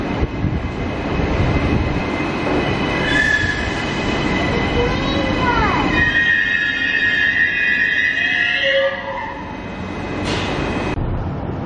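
A passenger train running on rails, with a loud rolling rumble, shifting metallic squeals and whines, and a brief high screech near the end.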